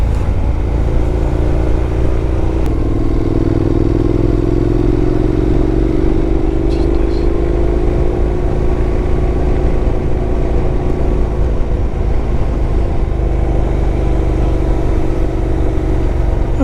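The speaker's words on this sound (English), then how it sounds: "Ah, motorcycle." Steady, loud engine drone from a Honda NC750X motorcycle under way on a group road ride, with rising and falling pitch as it accelerates, plus constant wind rush.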